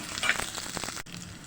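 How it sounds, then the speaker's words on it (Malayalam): Chopped garlic sautéing in a pan for a ginger squid curry, a soft steady sizzle with light stirring scrapes, fairly quiet and close, with a brief dropout partway through. "ഇനി നമുക്കിതെല്ലാം കൂടി നല്ലതുപോലെ ഒന്ന് വഴറ്റി കൊടുക്കാം"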